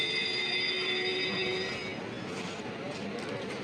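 A Bikaner Express train hauled by a WAP-7 electric locomotive arriving at a station, a steady rolling rumble with a high metallic squeal of wheels, moderately loud and continuous.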